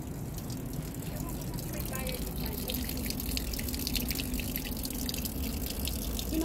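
Water trickling and splashing from a small mountain waterfall along a trail, a continuous close watery hiss and patter with people talking over it.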